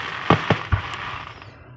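Fireworks go off outdoors in three quick booming pops spaced about a fifth of a second apart, followed by a fading hiss and faint crackle.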